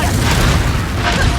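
A Confringo fire spell explodes in the video game Hogwarts Legacy, a loud, dense burst of booming noise filling the whole short moment.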